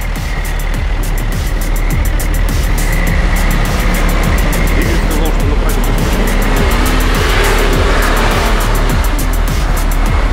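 A Volkswagen Touareg SUV with air suspension pulls away off-road, its loud engine revving and surging close by, with a rapid regular clatter running throughout and tire noise beneath.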